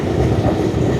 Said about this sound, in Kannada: KGFಗೆ ಟ್ರೈನ್ ಬಂದಿದೆ, ಇಲ್ಲಿ ಟ್ರಾಫಿಕ್ ಆಗಿದೆ.